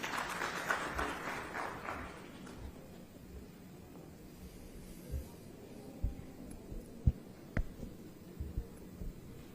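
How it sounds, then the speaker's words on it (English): Applause at an aerospace industry conference welcomes a state minister, loud and dense for about two seconds, then fading quickly into scattered claps and room noise. "Let's welcome with a round of applause."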